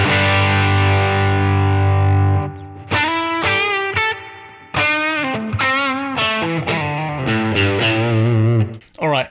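An electric guitar plays through a light Dyna drive on a Line 6 Helix, opening with a sustained chord and then a run of gritty single notes with bends and vibrato, loud and close.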